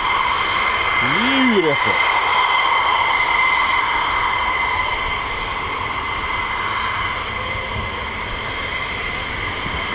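US Air Force fighter jet at RAF Lakenheath, home of the 48th Fighter Wing, gives a loud, steady engine roar that holds for the whole stretch, with brief speech over it.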